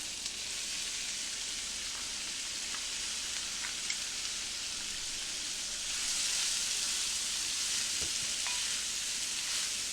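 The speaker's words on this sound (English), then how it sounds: "I'm going to let this saute, let it cook for about 5 minutes" Cauliflower with garlic and onion sautéing in a pan gives a steady, even sizzle throughout, with a few light clicks and a slight swell in loudness partway through.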